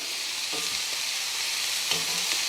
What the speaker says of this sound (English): So I'm just going to flip every piece around a little bit until I get a nice color.